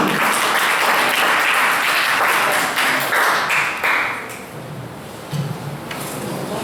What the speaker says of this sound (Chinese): 我们一起掌声欢迎吉米。